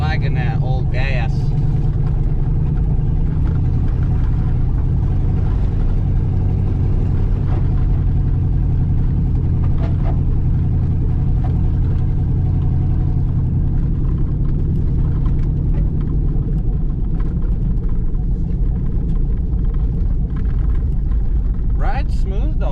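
An LS-swapped Squarebody Suburban truck drives along with a steady, low engine rumble and road drone that holds throughout, and a voice talks over it.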